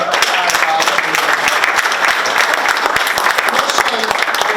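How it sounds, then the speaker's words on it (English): Loud, steady applause from a crowd at a South Sudanese Day celebration, dense clapping throughout with some voices mixed in. "give yourselves a huge clap"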